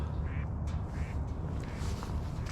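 Ducks quacking repeatedly over a steady outdoor wash of background noise at a lake, fairly close and continuous.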